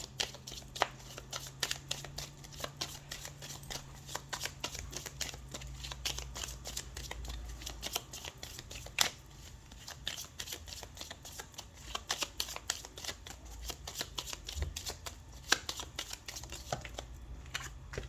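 Oracle cards from a Tzigane deck are shuffled by hand, with rapid, close riffling and flicking in continuous bursts, crisp snaps recurring steadily throughout, quiet overall with no talk.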